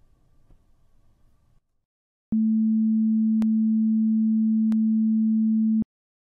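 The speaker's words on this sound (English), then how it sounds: "I'm going to create a sine wave with a frequency of 220 Hz and a length of 30 seconds" After a brief murmur of background noise, a steady, pure synthesized 220 Hz sine tone hums at a low pitch for about three and a half seconds, then cuts off abruptly.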